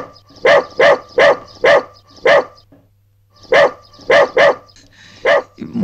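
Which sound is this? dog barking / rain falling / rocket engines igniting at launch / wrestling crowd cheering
dog barking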